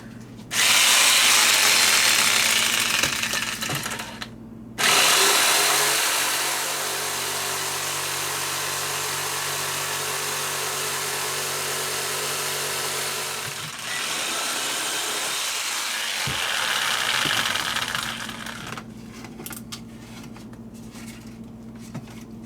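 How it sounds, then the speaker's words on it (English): A drill press whines loudly as it spins up, cuts steadily for several seconds, then winds down with mechanical rattling. "I'm just going to use the drill press."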